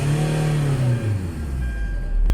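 A 2009 Hyundai Santa Fe engine revs hard, its tone sweeping up and then easing back down, loud and close with steady mechanical roar throughout, then a sharp click at the very end.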